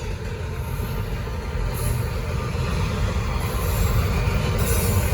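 Norfolk Southern freight train rolling past at close range on the Charlotte District, a steady, loud rumble of railcars with wheel noise and faint squeal building slightly over the span, no talking.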